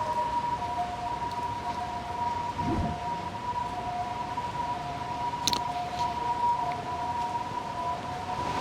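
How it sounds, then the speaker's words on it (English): A distant ambulance siren holds a steady wailing tone throughout, faint and far off beneath a wash of rainy street noise in Taiwan. "That's the ambulance."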